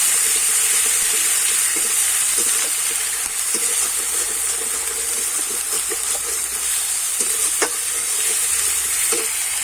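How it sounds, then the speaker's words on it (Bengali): Two spoonfuls of onion paste sauté and sizzle in a pan while prawns and figs are being cooked, a steady loud frying hiss with soft scraping stirs from the spoon throughout. "এবারে দিয়ে দেবো দু চামচ মতো পেঁয়াজ বাটা দিয়ে আমি কিন্তু একটুখানি কষিয়ে নেব"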